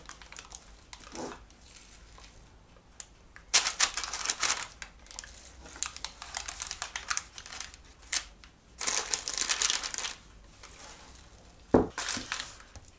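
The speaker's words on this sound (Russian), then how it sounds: "Поэтому бумагу стелю везде." Baking paper crinkles and rustles as a cake pan for a carrot-apple cake is lined, with intermittent crumpling bursts, close and fairly quiet with no talk.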